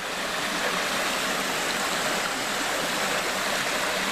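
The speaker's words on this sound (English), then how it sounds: "Little waterfalls after little waterfalls, all the way up." Small waterfalls spill one after another over rocks, giving a steady, close, unbroken rush of flowing water with no voices.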